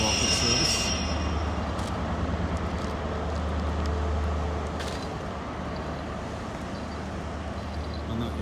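Rumble of a Saltburn–Bishop Auckland passenger train in motion, with a steady low drone and wheel noise on the rails throughout and faint brief squeals; a voice speaks quietly over it.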